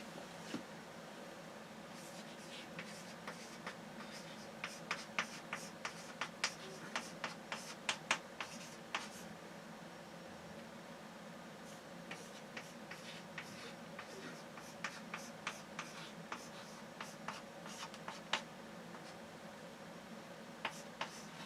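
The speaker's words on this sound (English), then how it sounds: "So I'm going to write the equations down again over here" Equations being written out by hand in a maths lesson, sparse faint taps and short strokes scattered over steady background hum, no talking.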